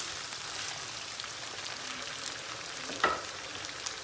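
Meat in a pan sizzling with a steady, soft frying crackle while being turned, with one brief clunk of the utensil partway through.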